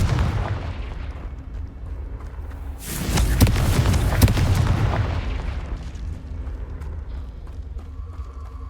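Confringo blasting spell in Hogwarts Legacy, a sudden loud burst that erupts into a rumbling, crackling explosion lasting about two seconds before fading into ambient game sound.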